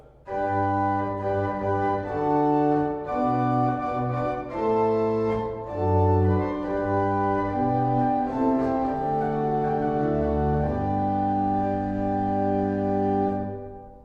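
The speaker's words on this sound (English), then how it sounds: "Again, we can use the 8-foot in the pedal." An 18th-century David Tannenberg pipe organ in Lititz, Pennsylvania plays a slow passage with a deep 8-foot pedal line beneath sustained chords, steady and full throughout.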